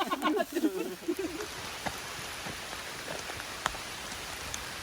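Rain falling on a hiking trail in Virginia along the Appalachian Trail, a steady soft patter with scattered sharper drops, after a few brief murmured voices at the start.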